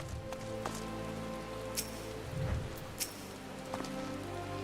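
Rain pours down on a city in Final Fantasy XIV, a dense, steady patter with a few sharper drips and soft low thuds against the continuous wash.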